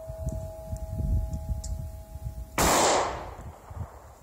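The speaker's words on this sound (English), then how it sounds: "That's just one shot missed out" A single sharp gunshot from a Ruger Max-9 pistol at an outdoor range, one loud crack bursting out of a steady low hum of wind and background noise, then fading quickly.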